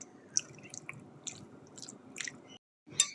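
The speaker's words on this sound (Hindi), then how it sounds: "अब हम चिकन को अच्छी तरह से मिक्स कर लेंगे।" Hands squish and squelch through marinated chicken pieces for chicken popcorn, close and quiet, with irregular wet slaps and sticky clicks over a soft rustle, briefly stopping before one last squelch.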